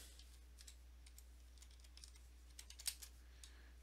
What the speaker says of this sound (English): I just typed in dice.